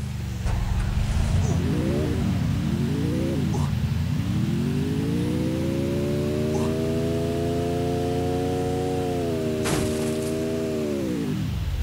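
Car driven in the battle-royale game Free Fire Max: a steady engine drone that revs up and settles into a long, sustained rising hum, loud throughout, with an in-game static hiss beneath and a brief click near the end.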